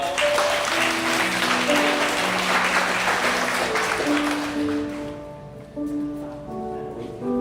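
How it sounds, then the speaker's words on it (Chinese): A church congregation at an Easter joint Sunday service claps steadily together, a dense even wash of applause that thins toward the end, with soft organ or keyboard notes sustained underneath. "我们拍手"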